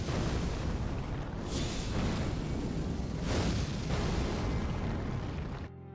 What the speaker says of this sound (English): Casters can conduct powerful explosions or focused beams of energy to varying degrees.